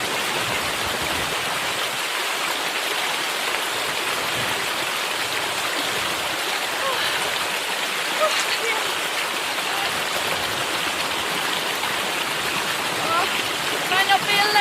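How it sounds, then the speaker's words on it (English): Rain falls outdoors in the Snowdonia hills, a steady broadband hiss that stays even and close throughout, with a few faint louder patters and a voice speaking briefly. "it's raining again"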